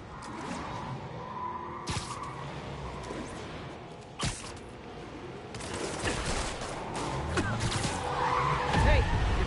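Car tyres skidding during a chase in the Spider-Man PS4 game, screeching amid bursts of gunfire and crashes, loud and continuous with engine noise and game voices mixed in.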